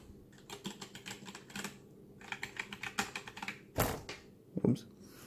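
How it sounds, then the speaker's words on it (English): Fingers type on a Logitech G413 mechanical keyboard, making clusters of crisp key clicks in uneven bursts with short pauses and a couple of louder heavy keystrokes. A voice is faintly audible in the background. "The noise made by these two keyboards is identical because they use the same switches"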